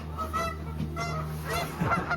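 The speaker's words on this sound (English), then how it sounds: "are we gonna have to deal with the geese all night?" Steady, overlapping honking from a flock of geese, loud and close, with calls layered on top of each other throughout.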